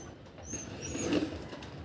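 A soft pigeon coo sounds close by, brief and low over faint background noise.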